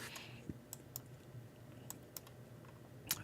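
Typing on an Apple computer keyboard: scattered light key clicks, soft and a little distant, with a quick cluster of taps near the end over a low room hum.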